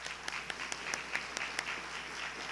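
Audience applause at a high school history awards ceremony: steady, moderately loud clapping from a crowd for about two and a half seconds with sharp individual claps poking through, no voices.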